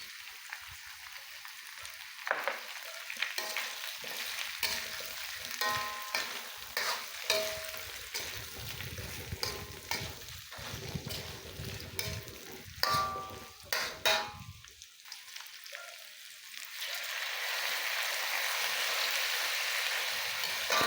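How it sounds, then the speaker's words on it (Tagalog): Pork adobo with crushed and whole peppercorns frying in a pan while being stirred, giving soft sizzling with intermittent scraping and clinking of the utensil, quieting briefly before the frying hiss swells again. "Haluin lang natin."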